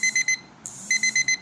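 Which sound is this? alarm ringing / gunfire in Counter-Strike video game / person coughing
alarm ringing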